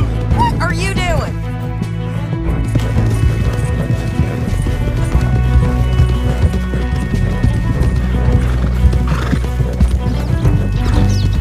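Horses gallop in the video game Red Dead Redemption 2, a steady drumming of hooves, with a sharp neigh early on and another later. Other background sounds play throughout.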